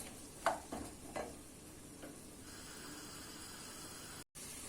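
Finely diced potato and carrot sauté with onions and garlic for red lentil soup, a quiet sizzle with a few early stirring scrapes, then a faint steady hiss.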